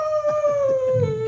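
A person imitates a wolf howl with a long, steady, wavering tone, close and loud, while faint rhythmic thumps pulse underneath.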